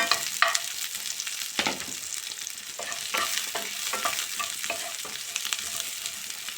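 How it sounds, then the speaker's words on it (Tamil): Onions and spinach sizzle in a hot pan for a Tamil-style palak gravy, with a spoon scraping and stirring in irregular close strokes over continuous frying crackle. "இதெல்லாம் வதக்கிடலாம் ஒரு நிமிஷம்"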